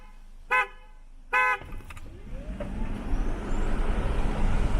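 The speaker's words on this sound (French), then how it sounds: "troisième coup de klaxon" Two short, loud car horn honks a second apart from a Tesla, followed by the vehicle pulling away with rising road and wind noise.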